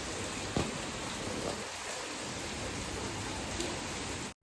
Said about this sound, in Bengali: ঘুম থেকে উঠেই দেখি বৃষ্টি হচ্ছে